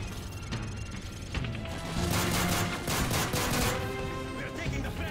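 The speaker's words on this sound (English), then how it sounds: "That's gunfire!" Sustained gunfire in the Call of Duty Modern Warfare 3 video game, bursts of rapid automatic shots and impacts layered over a loud, dense battle soundscape that continues for the whole stretch.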